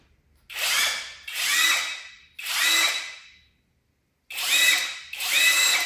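A cordless brushless power tool from a Temu kit, powered by a 4 Ah Milwaukee M18 battery, whirs in five short bursts, each revving up and winding down, close and loud with pauses between.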